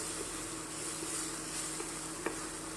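Ground fresh green chickpea mixture sautéing in a hot tempering of oil and spices, a quiet, even sizzle and hiss that runs on steadily with a few faint ticks and pops.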